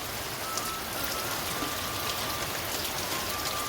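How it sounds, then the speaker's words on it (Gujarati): Heavy rain pours steadily over a cotton field, a dense, even hiss of drops close around with no voices. "આટલો વરસાદ પડે છે"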